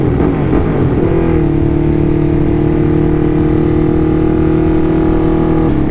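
Ducati motorcycle engine revving hard inside a tunnel, a loud, sustained roar that climbs and then holds a steady high pitch with a harmonic drone echoing around it.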